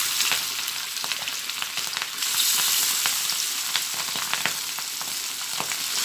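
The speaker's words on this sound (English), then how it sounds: "I am frying the fish." Loud, steady sizzling and crackling of vanjiram fish frying in hot oil, with occasional pops and spatters close by, no talking.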